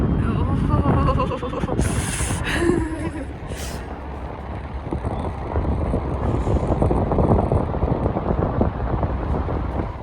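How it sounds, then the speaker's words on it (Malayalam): Strong cold wind on an 88th-floor observation deck at Melbourne Skydeck buffets the microphone in a continuous low rumble, with brief higher bursts early on; faint voices can be heard beneath it. "നല്ല തണുത്ത കാറ്റുണ്ട് ഇവിടുന്ന്."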